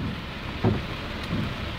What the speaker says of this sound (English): Now if we could do something about this rain.